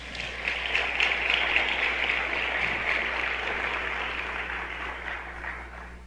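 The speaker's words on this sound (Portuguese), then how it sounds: "Quem crê nisso, aplauda o Senhor Jesus." A church congregation applauds together, a broad, sustained wash of clapping that swells early and slowly tapers, with a low hum underneath.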